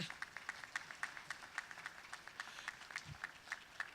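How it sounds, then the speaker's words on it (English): A conference audience gives a faint round of applause, a light, fairly regular patter of clapping heard from a distance at low volume. "So let's do a little in absentia round of applause."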